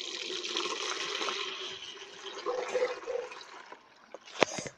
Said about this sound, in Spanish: Echamos agua.